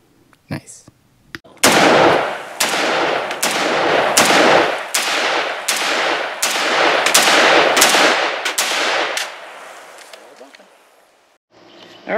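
A DSA FN FAL Para carbine fires 7.62 rounds semi-automatically at a range, about a dozen sharp, loud shots in an uneven rhythm with ringing tails, trailing off near the end.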